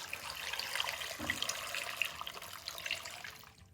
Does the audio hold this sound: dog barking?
no